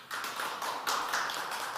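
Audience applause at a Korean social venture event: a steady patter of many hands clapping at moderate distance, rather soft, filling the whole moment without talk.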